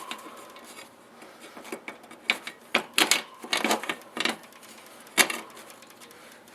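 Sharp, irregular rasping scrapes and clicks as the saw edge of a WJQ-308 Chinese military shovel cuts a piece of aluminum angle, uneven strokes in short bursts with brief pauses, close and fairly loud, no talk.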